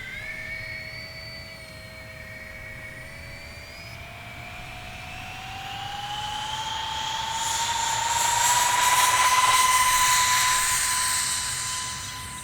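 An E-Flite Micro B-2 Spirit model jet with twin 30mm electric ducted fans whines overhead in a breezy sky, a thin high-pitched rising tone that swells louder as it passes nearer, then fades slightly, with no voices.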